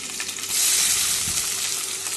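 Onions and curry leaves fry in a pan for idly fry, giving a steady, loud broadband sizzle throughout that swells slightly after the first half-second, with no voices.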